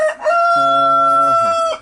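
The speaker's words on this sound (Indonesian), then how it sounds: "Ayam berkokok." A rooster crows once in the morning, a loud, close cock-a-doodle-doo with a rising start and long sustained call, heard alone without talk.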